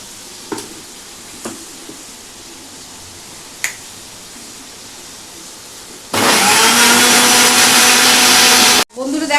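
A grinder whirs loudly and steadily for a few seconds while turning white sesame, onion and green chili into paste, after a few sharp clicks and taps in a quiet kitchen.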